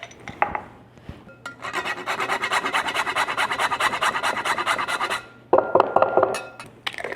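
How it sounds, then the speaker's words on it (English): An orange being zested on a microplane grater, heard as a steady run of fast, close rasping strokes lasting a few seconds, with brief scraping bursts before and after. "leave my microplane out, and we're gonna zest an orange"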